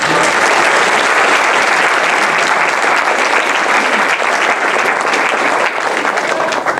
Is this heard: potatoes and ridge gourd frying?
no